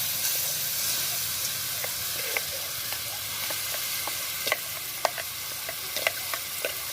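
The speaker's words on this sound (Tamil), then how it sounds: "அதே வானலில் இந்த நெய்யோடு சேர்த்து நம்ம அரைச்சி வச்சுக்கிற இந்த பேஸ்ட்டை ஒன்றா கலந்துருவோம்." Ground coconut paste is stirred into hot ghee in a pan, with a steady sizzle and hiss running throughout and frequent small scrapes and clicks of a spoon against the pan.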